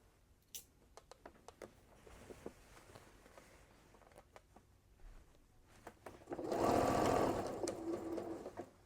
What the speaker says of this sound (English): next stitch will be my final stitch, and that will be the stitch that makes the zipper invisible